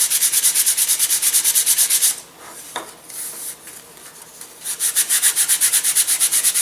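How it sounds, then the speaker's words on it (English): Rhythmic back-and-forth sanding strokes on the wood of a model rocket glider, loud and close, with a brief pause in the middle before the steady scraping resumes. "so we can sand this area down"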